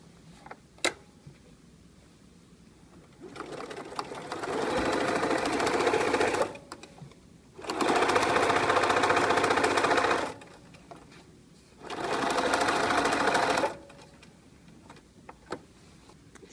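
A sewing machine stitches French binding in three separate runs, each a steady loud whir lasting a few seconds, with quiet pauses and faint clicks between them.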